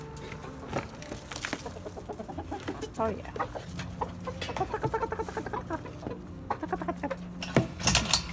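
Backyard chickens cluck and murmur close by in a quiet run while pecking at broccoli trimmings, with short scattered calls throughout. A person speaks briefly.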